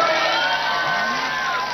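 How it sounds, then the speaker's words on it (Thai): A crowd at a political speaking event in Nonthaburi cheers and whoops loudly, a dense sustained roar of voices filling the space with shouts rising above it. "ขอเสียงปรบมือให้เมียดีๆที่นี่ทุกคนนะครับ"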